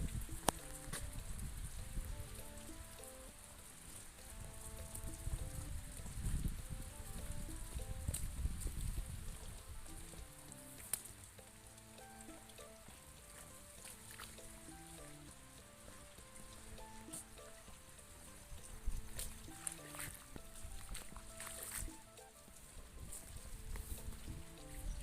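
Steady evening rain falling in Surat Thani, Thailand, a continuous soft patter that stays even throughout with no voices.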